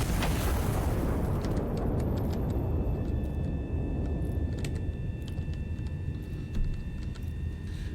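A single artillery gun in the video game Iron Nest fires a shell with a loud, close boom at the start, followed by a long rumbling decay and faint mechanical clicks and tones.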